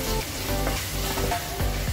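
One chopped tomato with masala sautés in a pan for mutton upma, giving a dense, steady sizzling hiss with faint stirring movement, close and even throughout, with no voices.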